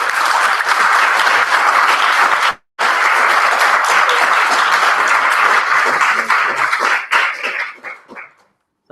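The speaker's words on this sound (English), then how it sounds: "everyone give a round of applause and thank Alyssa again" Conference audience at ZooCon 2015 gives a loud, sustained round of clapping that cuts out briefly, resumes, then thins into scattered claps and fades to silence, with a dog barking and whimpering in the mix.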